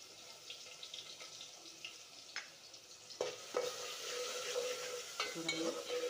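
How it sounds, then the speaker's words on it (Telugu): Chopped onions sizzle softly in a pan for a chickpea curry, with a steady faint fry and intermittent scraping stirs and clinks of a spoon against the pan. "కట్ చేసుకొని పెట్టుకున్న ఆనియన్స్ వేయాలి"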